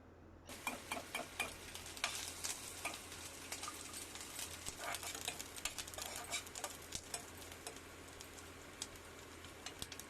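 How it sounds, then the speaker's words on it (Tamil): Coconut roasting in a little ghee in a pan for porivilangai urundai, with steady soft sizzling and scattered clicks and scrapes of stirring, close and fairly quiet, no voices. "கொஞ்சமா நெய் விடுவோம், ஏன்னா இந்த தேங்காய் கொஞ்சம் வறுக்கிறதுக்கோசம்."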